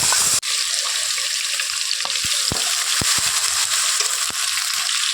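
Chopped onions and ginger-garlic paste frying in oil, a loud continuous sizzle with sharp utensil knocks and scrapes against the pan at irregular intervals.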